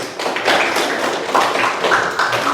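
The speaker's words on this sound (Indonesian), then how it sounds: "Oke, tepuk tangan untuk kelompok" Students in a classroom clap for a presenting group during a teacher performance assessment at UIN Sunan Kalijaga, a short, uneven burst of nearby hand claps and taps that comes in irregular clusters.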